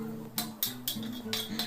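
A teaspoon of coriander seeds dry-roasts in a pan, with a spoon scraping and clinking against the metal in sharp, irregular strokes over a faint steady hum.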